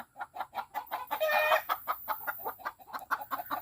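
A Harold Brown gamefowl rooster clucks in rapid, rhythmic pulses close by, with a brief harsher squawk partway through and the clucking resuming afterward.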